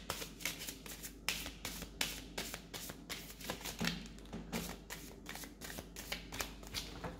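A deck of cards is shuffled by hand close up, a run of quick riffling bursts and soft taps repeating steadily and quietly with no talking.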